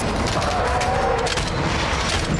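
Sustained gunfire from Warzone 2.0, a dense, steady barrage of rapid shots with booming low end that fills the whole stretch loudly and evenly, with no clear gaps.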